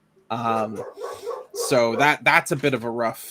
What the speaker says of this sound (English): My apologies about the dog barking.